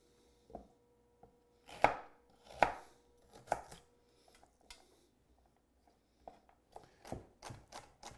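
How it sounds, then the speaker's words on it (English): A knife dicing food into small quarter-inch pieces on a cutting board, sharp knocks coming in irregular bursts with short pauses, close and clear against a quiet room. "Cut it into sticks, and then just cut it at about a 1/4 inch."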